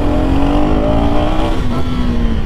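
A KTM Duke 250 Gen3 motorcycle accelerates with a loud, close engine note whose tone climbs smoothly and then eases slightly, heard alone without talk.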